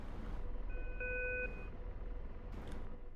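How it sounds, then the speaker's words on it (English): A single short radar tone sounds in the DCS World flight simulator's Apache helicopter cockpit, a clear electronic beep lasting about half a second over a steady low rotor and engine rumble. "So I'm going to scan, I'm going to go up. We'll hear a beep soon."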